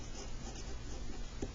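Pen or marker writing numbers by hand during a decimal place value lesson: a brief, steady scratchy stroke sound over a constant background hum, fairly quiet and with no talking.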